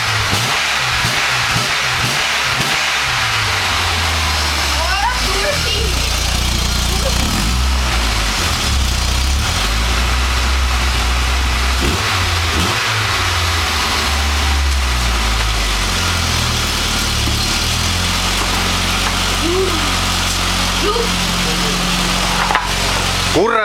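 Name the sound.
car engine running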